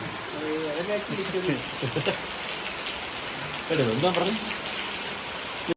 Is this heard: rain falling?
yes